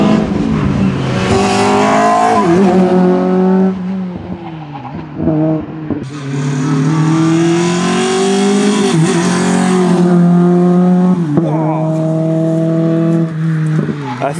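A Caterham car driven fast on a rally driving track, its engine revving high and shifting through gears, dropping and climbing again, loud and close throughout.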